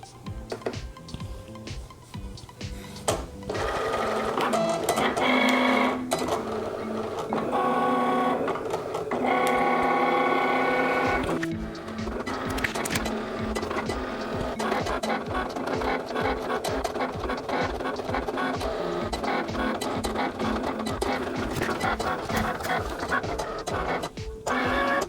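A Cricut cutting machine slices heat-transfer vinyl on its mat with rhythmic mechanical whirring, buzzing and ticking as the carriage shuttles back and forth, steady and close for the whole stretch with no talk.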